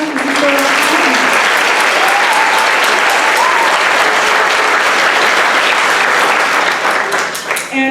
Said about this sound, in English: let's give the 8th grade class a round of applause